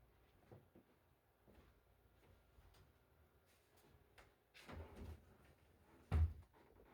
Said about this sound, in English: Hold on, let me shut my door.